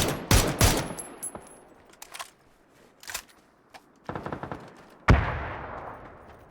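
Several sharp bursts of PUBG video game gunfire crack out, some in quick rapid runs, others as single shots with echoing tails, fairly loud against a quiet background.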